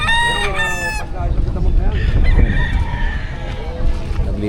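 A rooster crows loudly and close among caged stud roosters at a pet market, one strong harmonic call at the start followed by clucks, market clatter and background voices.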